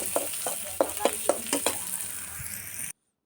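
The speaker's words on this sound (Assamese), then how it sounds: "পিঁয়াজ ভাজি আছোঁ" Onions fry in hot oil with panch phoron in a wok, a steady crackling sizzle broken by several sharp scraping stirs of a spatula at close range, ending abruptly.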